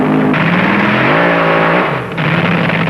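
Gene Snow's funny car racing at the 1970 NHRA Supernationals drag race, a loud continuous engine roar with rising and shifting pitch that dips briefly near the end before resuming.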